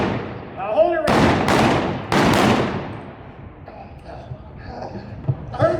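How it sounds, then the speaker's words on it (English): A handful of loud blank gunshots go off on a Wild West main street during a nighttime reenactment show, two pairs of sharp booming reports with echo, while performers shout and talk around them. "Everybody shooting, what's going on?"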